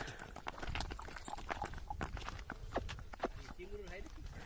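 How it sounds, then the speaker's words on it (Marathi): Horses walk along the road toward the Malegaon yatra fair, hooves clip-clopping in a steady, fairly close rhythm beneath almost constant talking. "त्यांनी आता घोड्यावर बसूनच यात्रेला जाणार आहेत पाहू शकता निघालेले आहेत"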